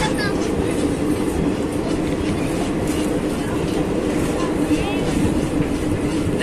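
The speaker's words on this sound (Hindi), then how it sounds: "तो देखिए ट्रेन अपने टाइमिंग से खुल गई है यहाँ से" A Garib Rath Express pulls out of the station with a steady, loud rolling rumble of wheels and rail clatter heard from inside the carriage, while passengers' voices murmur faintly in the background.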